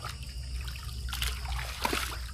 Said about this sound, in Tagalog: Ari na ang tubig ani surbol ko.